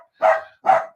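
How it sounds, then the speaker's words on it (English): A pet dog barks twice in quick succession, close and fairly loud, at another dog passing by in a raincoat, with short silences between the barks. "I can't really fault him for barking at a dog that's wearing a raincoat"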